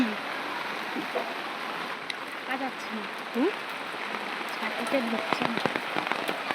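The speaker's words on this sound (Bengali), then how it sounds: "গাইস দেখো কি পরিমাণে বৃষ্টি।" Heavy rain pours down steadily on someone walking home from a market under an umbrella: a dense, continuous hiss of drops with faint voices briefly audible beneath it.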